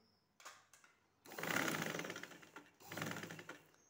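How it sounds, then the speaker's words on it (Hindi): A sewing machine stitches buckram onto a kameez neckline, starting with a couple of short whirs and then running in two longer steady bursts, close by. "तो यहाँ पे अब हम सिलाई करके ले आएंगे"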